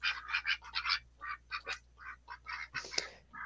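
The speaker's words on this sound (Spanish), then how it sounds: "Los, los patos te están avisando del peligro, ¿no?" Several ducks quack in quick bursts of nasal calls, fairly close but quiet, over a low steady hum, with no speech.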